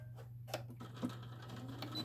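A sewing machine runs a quarter-inch seam on a tote bag, a quiet steady motor hum with faint rhythmic needle clicks throughout.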